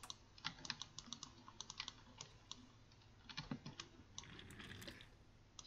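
Computer mouse clicks and keyboard taps at a desk during a point-and-click detective game, sharp close clicks in irregular bursts, quiet and alone with no talking.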